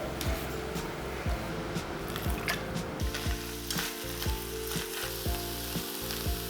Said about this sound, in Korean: 고기가 익으면 가지와 간장 1테이블스푼을 넣고 한번 볶아주세요.